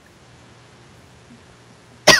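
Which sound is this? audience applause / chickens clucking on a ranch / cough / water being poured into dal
cough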